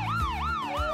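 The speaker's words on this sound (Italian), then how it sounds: "Sta arrivando l'ambulanza." A toy ambulance siren wails, sweeping up and down in quick repeated cycles, loud and close, with a thin electronic tone and no voices.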